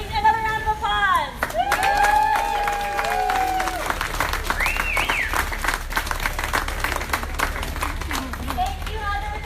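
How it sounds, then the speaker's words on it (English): A crowd at a Pride equality rally in Key West applauds and cheers, with sustained clapping and scattered whoops mixed with voices and shouting, loud and close throughout. "Make another round of applause."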